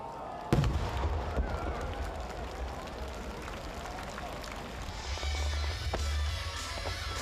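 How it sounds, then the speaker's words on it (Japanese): A sharp firework burst at the Nagaoka Festival fireworks display in Japan, followed by a rumbling crowd-filled night atmosphere, with distant booms and crackles continuing underneath. "戦災殉難者への鎮魂の花火として白菊3発が捧げられ"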